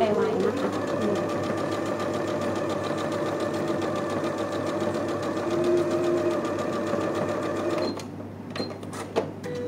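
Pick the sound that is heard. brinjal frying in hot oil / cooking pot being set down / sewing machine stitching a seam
sewing machine stitching a seam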